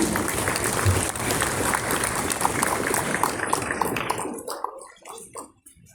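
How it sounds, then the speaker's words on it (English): A crowd claps steadily in dense applause that thins out toward the end into a few scattered final claps. "Let's give a big round of applause for archery."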